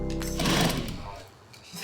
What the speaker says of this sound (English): sewing the panels together using robust and hard-wearing thread